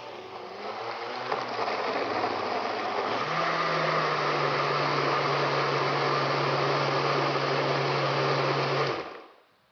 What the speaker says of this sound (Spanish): Paramos nuestro licuador y vamos a ayudarle en el proceso